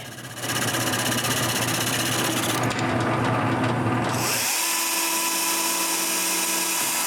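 A power drill whirs steadily for several seconds while drilling a hole in the center of a small wooden disc, its pitch shifting midway as the bit works through the wood, close and loud with no talking.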